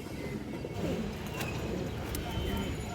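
Pigeons of the chhapchila kind coo softly in low, rolling murmurs under steady background noise, close by, with brief higher chirps.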